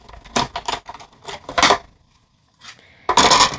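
Paper in a standard cutting plate and embossing folder being cranked through a die cutting machine, producing close, loud clattering and clunking bursts with a short quiet gap before a final heavy rumble.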